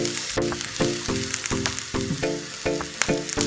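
Garlic fries in a pan for white sauce pasta, with a close, loud sizzle and repeated rhythmic stirring strokes against the pan throughout.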